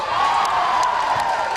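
A men's basketball crowd at a Chemeketa vs Lane game roars in a steady, loud wash of cheering and whoops after a steal.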